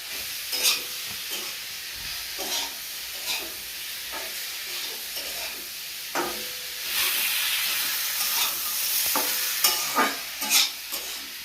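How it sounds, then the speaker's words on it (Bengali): Eggplant, onion and green chillies sizzle in fish oil in a pan in a village kitchen while a utensil stirs them, a steady close frying hiss broken by repeated scraping strokes, with no talking. "আমি কিন্তু ভালো করে এখন নেড়ে চেড়ে দিচ্ছি।"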